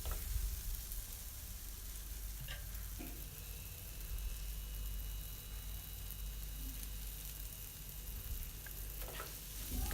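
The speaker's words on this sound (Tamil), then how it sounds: "சேர்த்துட்டு ஒரு 1 நிமிஷத்துக்கு வதக்கிக்கோங்க." Yellow pumpkin and grated coconut sauté in a pan for a Tamil poriyal, a quiet, steady sizzle broken by a few soft scrapes and taps from stirring.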